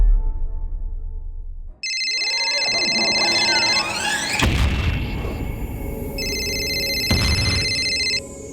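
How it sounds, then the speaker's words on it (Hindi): A phone ringtone plays loudly: a sweeping electronic tune with bright chiming tones, bursts and a boom, repeating its melody over several seconds. "संदीप, तुम्हारा फोन है, नाम नहीं दिखा रहा"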